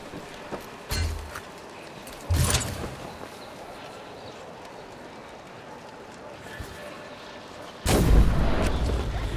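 Gunfire in the video game Flintlock while shooting bandit banners, a few sharp booming shots spaced seconds apart over a continuous background, close and loud.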